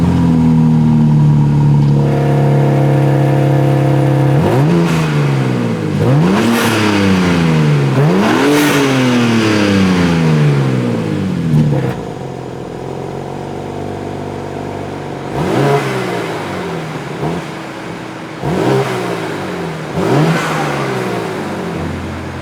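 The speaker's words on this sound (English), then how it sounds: "So let's hear what this car sounds like with the valves open and closed." BMW M3 Competition G80 engine with exhaust valves, loud and close, first holding a steady idle, then several sharp revs rising and falling in quick succession, followed by rougher blips and lower rumbling.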